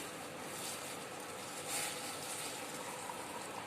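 Just-boiled water from a gas stove pours steadily into a cup as a home remedy drink is made, giving a continuous close rush and splash with no talk.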